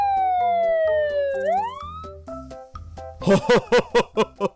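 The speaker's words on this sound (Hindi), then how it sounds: "इतने में जमीन के ऊपर पुलिस सायरन सुनाई देती है।" A siren wails with a falling then rising tone over background music, followed by a series of loud rhythmic bursts.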